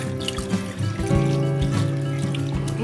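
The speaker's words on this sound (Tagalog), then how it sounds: "Lagyan natin ng tubig." Water poured into a cooking pot, a steady close trickle and splash with ringing tones as the pot fills, lasting a few seconds with no talking.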